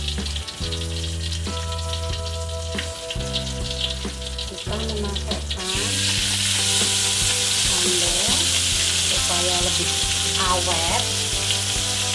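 Ground tomato sambal hits a hot pan partway through and sizzles loudly and steadily while being stirred, following a stretch of tonal background music, with a voice briefly heard.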